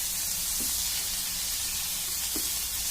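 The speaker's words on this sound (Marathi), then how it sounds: "हे बघा, आपलं आलं लसूण छान परतून झालेलं आहे" Ginger and garlic frying in a pan over a medium flame give a steady close sizzle with a low background rumble and a couple of faint stirring knocks, no talking.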